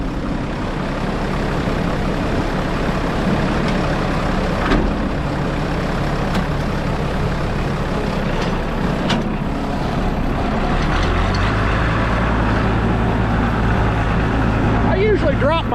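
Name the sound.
tractor engine while planting corn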